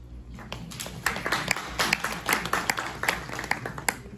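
Conference audience breaks into scattered then fuller applause, a lively patter of individual claps in a large room, with no talk over it.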